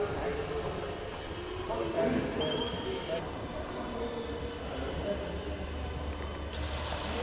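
An RC model of a Canberra bomber, a MKIV build, comes in to land outdoors with a steady, moderately loud engine drone and a wash of wind and background noise throughout.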